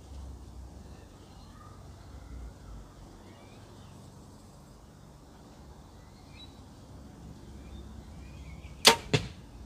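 An arrow from an NVX 27 crossbow strikes the target near the end, two sharp close impacts in quick succession over a low steady outdoor background.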